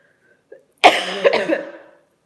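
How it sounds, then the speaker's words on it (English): One harsh, close cough from an allergy sufferer, a single rough burst of about a second preceded by a faint breath, with no talking. "I'm having this cough side effect"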